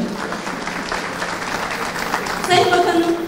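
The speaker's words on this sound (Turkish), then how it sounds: "Sayın Bakanıma çok teşekkür ediyorum ve kuvvetli bir alkış istiyorum" Applause at a ceremony honouring a minister, dense sustained clapping from a large crowd, swelling louder toward the end, with a voice speaking over it.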